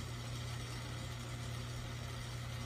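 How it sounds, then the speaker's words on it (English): Half-inch milling cutter machining mammoth knife handle material, a steady mechanical hum with a constant low drone, continuous and even, with no talking. "I'm currently using a half inch milling cutter."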